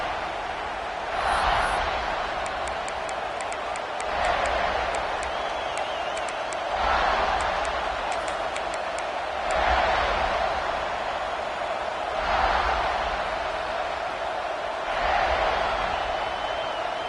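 Crowd cheering in a football video game rises and falls in steady waves, each surge lasting a second or two over a constant stadium roar.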